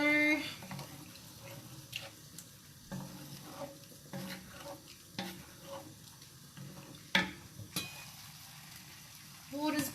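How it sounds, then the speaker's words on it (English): A pot of water boils on the stove for egg tagliatelle pasta, a faint, steady bubbling with scattered light clinks and stirring sounds. "Water's boiling nicely."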